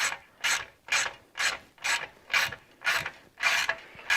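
A ratchet wrench backing a bolt out of a vintage Honda CB350 motorcycle, about eight even rasping clicks in a steady rhythm, close and loud with no talk.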